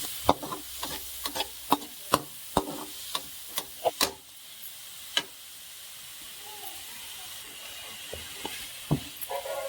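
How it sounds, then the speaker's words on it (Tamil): Carrot, spring onion and green chili sautéing in a pan: a soft background sizzle punctuated by regular sharp spatula taps and scrapes, which thin out partway through before a few more strikes near the end. "கேரட்டு, பச்சை வெங்காயம், பச்சை வச்ச வெங்காயம், மல்லித்தழை, பச்சை மிளகாய் இதெல்லாம் ஒன்றா வச்சு லைட்டாக வதக்கி விட்டுக்கலாம்"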